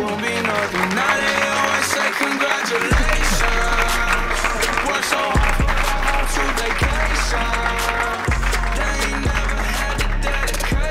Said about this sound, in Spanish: un fuerte aplauso para el referente de este programa, Antonio de Nebrija, por favor.